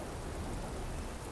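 Steady rain in the video game There Is No Game, a dense, even wash of falling drops that holds at the same level from start to finish with no voice over it.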